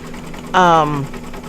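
An embroidery machine stitches satin stitches on a Halloween applique design, giving a close, steady mechanical hum, with a voice briefly rising over it.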